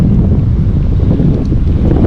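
Steady wind buffets the microphone beside a Florida pond, a loud, rumbling low roar that holds constant with no talking.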